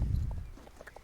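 Horse hooves clip-clopping in Star Stable Online, a short run of light, soft footfalls at a steady walking rhythm, faint and alone.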